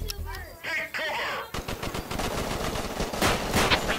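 Rapid bursts of gunfire ring out in the VR shooter game Crisis VR 2, starting after a short electronic tone sequence and continuing as dense, loud automatic fire crackling for the rest of the moment.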